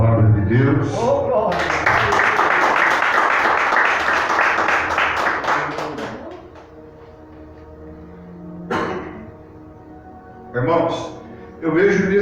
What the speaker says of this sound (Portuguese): Dê uma linda salva de palmas à palavra de Deus.